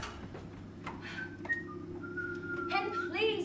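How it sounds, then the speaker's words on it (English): A person whistles a wavering tune in short phrases over a steady low hum, with faint background noise. "please stop whistling"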